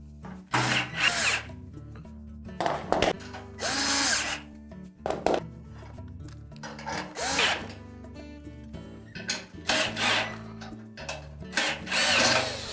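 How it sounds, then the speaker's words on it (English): A power drill drives bolts into the spider assembly of an LG washer tub in repeated loud bursts of whirring with brief pauses and ratcheting between them, close and without speech. "We suggest that you install all 6 bolts before you tighten them down"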